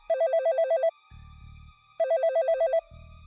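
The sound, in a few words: landline telephone ringing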